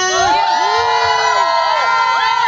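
A stand-up comedy audience shouting, whooping and cheering together, a loud, continuous crowd roar with children's voices and rising yells throughout.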